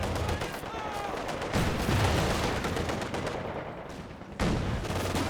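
Rapid, crackling bursts of Bren machine gun fire in a Company of Heroes 2 battle, layered with other gunfire and explosions in a dense, loud wartime din while a commentator speaks over it.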